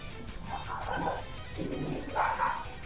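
A female dog barks and yips a few times, faint and somewhat distant, in short uneven bursts against a quiet background.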